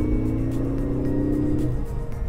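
A 2013 Ford Focus ST engine pulls on light throttle from around 3,000 RPM in a low gear, a steady droning hum that rises slightly in pitch over a couple of seconds, heard from inside the car.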